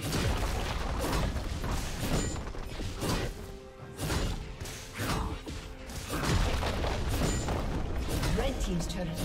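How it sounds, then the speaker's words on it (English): A turret is destroyed in a League of Legends match: heavy crashing booms and thuds mix with clattering, grinding mechanical debris in repeated bursts, with a voice speaking over the loud destruction. "Red Team's turret has been destroyed."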